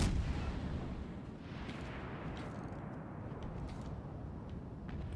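Cruiser guns fire in the naval battle game World of Warships Legends, opening with a deep booming salvo that rolls into a long, dense rumble of distant gunfire and low explosions, with no talking.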